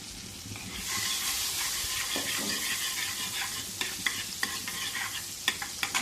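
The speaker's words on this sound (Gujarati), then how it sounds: "તેને મેલ્ટ થવા દઈશું" A spoonful of butter melts in a hot pan for a sauce, giving a loud, steady sizzle and fizzing hiss, with a few sharp ticks and scrapes of a spoon stirring toward the end.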